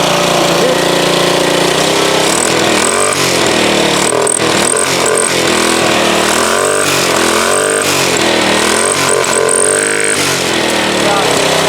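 An engine runs loud and rough after work on its torque converter, a constant harsh droning roar with pulsing, wavering tones, and voices talk over it.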